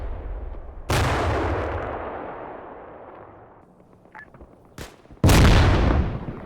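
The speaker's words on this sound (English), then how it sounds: "And then the rounds start falling near the lodge." Artillery rounds fall near a lodge in the Combat Mission Cold War video game, two loud booming blasts with long rumbling decays, separated by a quieter stretch with a faint crack.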